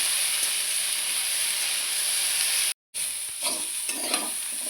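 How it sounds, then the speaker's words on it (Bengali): Beans, carrot, cauliflower and potato fry in a pan with a steady hissing sizzle, broken by a brief silent gap, then resuming with stirring scrapes, close and alone. "এই সবজিগুলো ভালো করে ভেজে নেব"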